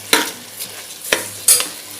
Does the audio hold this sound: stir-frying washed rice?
yes